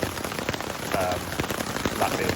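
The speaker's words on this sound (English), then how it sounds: "I was going to say earlier how much I love hiking in the rain." Heavy rain pours down on a hiking trail in the Scottish Highlands, a dense, steady patter of drops hitting surfaces close by.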